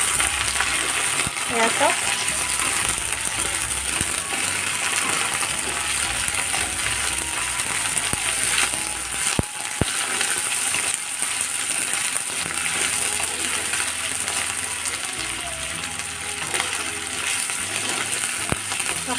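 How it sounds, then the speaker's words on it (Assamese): Duck meat frying in a pan for a home-style Assamese curry, a continuous loud sizzle with scraping stirs and occasional metallic clinks; a voice speaks briefly. "এতিয়া মই ইয়াত দি দিছোঁ মাংসখিনি, হাঁহৰ মাংস। এতিয়া অকণমান সময় এনেকৈ ভাজি ল'ম।"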